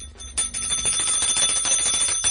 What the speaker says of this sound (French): Madame la comtesse a sonné !